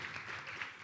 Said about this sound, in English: Bigger round of applause for King's College Budo.